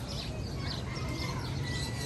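Birds chirping and calling at an outdoor fruit stand where chickens roam, a dense, continuous chatter under steady background noise with no talk.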